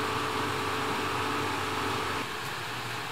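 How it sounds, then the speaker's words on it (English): Air conditioning running in a lodge room at Lake Louise, a steady broadband hum and hiss that fills the whole stretch without a break, moderately loud and close, with no voices. "Air conditioning's on, so maybe you can't hear us"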